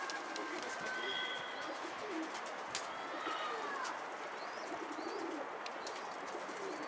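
Pigeons coo softly against steady outdoor hiss, with a few faint chirps and flutters in the background.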